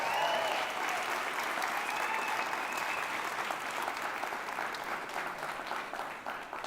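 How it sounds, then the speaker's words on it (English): Sustained applause from an audience after a talk at a tech event, dense and even throughout, fairly loud with no speech over it. "Let's give one more round of applause for Caleb."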